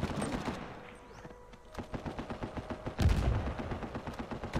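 Rapid gunfire from a sniper firefight in Uncharted 4, a series of sharp shots in quick succession that grows louder midway, heard without talk.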